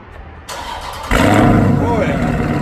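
2018 Dodge Charger Scat Pack with a 6.4 liter Hemi and true dual active exhaust fires up for its first start: a brief crank, then a loud deep catch settling into a rumbling idle, with voices nearby.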